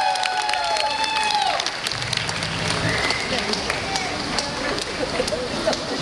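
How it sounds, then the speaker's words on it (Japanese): Applause and light cheering from a live concert crowd, scattered clapping mixed with crowd murmur and brief voices, moderately loud and continuing throughout. "何あの人、普段やってることと全然違うじゃないのという思う方は拍手をどうぞ。"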